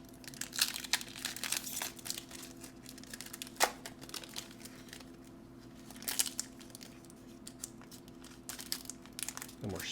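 Pokémon Phantasmal Flames card packs being torn open, with foil wrappers crinkling and crackling in quick bursts close by, scattered sharp tears and rustles across the stretch over a steady low hum.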